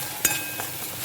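Red chili powder and spices sautéing in a pan, a soft, quiet sizzle with a single sharp clink of a spoon against the pan near the start.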